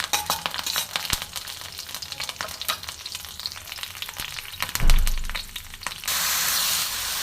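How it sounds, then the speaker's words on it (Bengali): Curry leaves, black mustard seeds and a torn dried chilli sizzle in hot mustard oil, with sharp pops and crackles over a steady fry, close and loud, with no talk. "এবার কারি পাতা, কালো সর্ষে, একটা ছেঁড়া শুকনো লঙ্কা আমি এর মধ্যে ফোড়ন দিয়ে দিচ্ছি"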